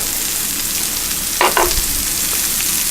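Lemon dill butter sizzling in a frying pan alongside halibut, a steady loud hiss with a brief stirring clatter midway, close and without talk.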